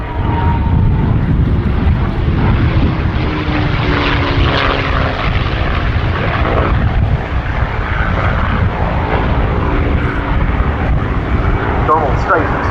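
North American P-51D Mustang 'Jersey Jerk' flying at a Duxford air show, its piston engine and propeller droning steadily overhead, rising and falling in pitch as it passes, beneath continuous commentary over loudspeakers.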